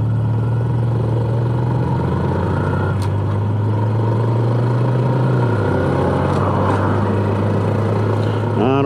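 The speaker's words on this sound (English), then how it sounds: "That's a loud jake brake." A truck's jake brake on the road, a loud, steady low engine drone that holds a constant pitch, then steps down, heard continuously over road and wind noise.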